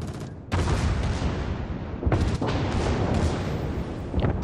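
A Grober Kurfurst battleship in World of Warships fires armor-piercing volleys at a fort, producing heavy rolling booms in several bursts, each followed by a long rumbling tail.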